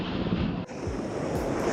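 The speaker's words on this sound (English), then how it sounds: "A little windy." Steady wind buffeting the microphone on a moving MasterCraft X24 wake boat out on the water, a constant rushing roar with a brief dip partway through.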